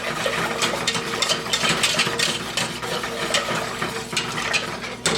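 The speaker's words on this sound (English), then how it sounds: "I'm going to whip this up in here first before I add the vinegar." Continuous rapid scraping and clinking of a whisk against a pan, whipping up a mild taco sauce, steady rhythm with no talking.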